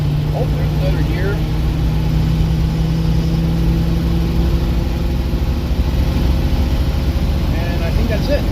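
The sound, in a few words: car engine running through automatic gear shifts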